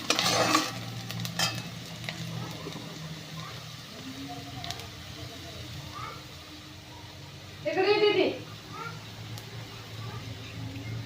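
Finely chopped onion frying in a pan and stirred, a soft sizzle under scraping and clinks of a spoon, with intermittent talk and a brief voice-like burst midway.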